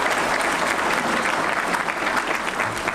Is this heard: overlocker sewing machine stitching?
no